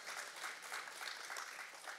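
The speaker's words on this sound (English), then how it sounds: "You can clap for that." Audience applause in a church hall during a sermon on love, sex and dating, a steady wash of many hands clapping at moderate distance, fairly faint and even throughout with no talk over it.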